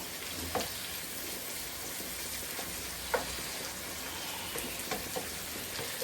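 Two pieces of fish frying in a pan give a steady, dense sizzle with occasional brief pops and crackles, close and even throughout with no talking.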